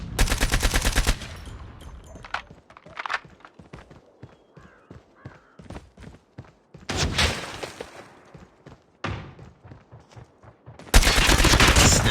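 Gunfire in Call of Duty Mobile: dense automatic bursts open and close the stretch, with a loud volley in the middle, separated by sparse clicks, footsteps and single shots, all without voices.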